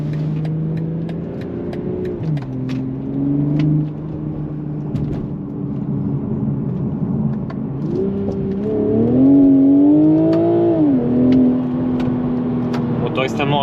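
A BMW Z4 M40i with the 340-horsepower B58 engine and rear-wheel drive pulls hard under acceleration, its engine note rising and falling across gear changes as a steady in-cabin drone with road rumble beneath, while someone talks over it.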